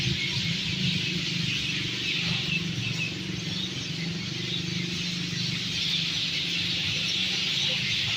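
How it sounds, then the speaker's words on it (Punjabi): Many sparrows chirp together on a roadside board, a dense and continuous high twittering chorus over a steady low traffic-like rumble, with no talking. "ਬੋਰਡ ਦੇ ਉੱਪਰ ਇੰਨੀਆਂ ਚਿੜੀਆਂ ਦਾ ਸ਼ੋਰ ਹੈ ਨਾ"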